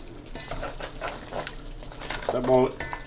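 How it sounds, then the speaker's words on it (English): Irish potato is stirred into a simmering Jamaican curry crab gravy, a soft wet stirring and bubbling close by, with a brief clink of utensil on pot near the end and a voice talking over it. "So I'm just gonna stir it in."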